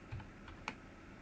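Typing on a laptop keyboard, a few quiet, soft key taps spread over about a second, with one slightly sharper click among them.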